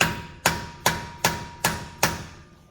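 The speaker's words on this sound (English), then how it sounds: "as I'm loosening it, I'm gonna be hitting it with the hammer" A hammer strikes an Acura RL rear brake rotor six times at an even pace, sharp metallic clanks with ringing decay, close and loud, while the rotor is being loosened.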